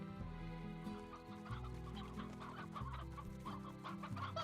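Chickens clucking in the video game Slime Rancher, several birds in soft, irregular clucks over steady background game music.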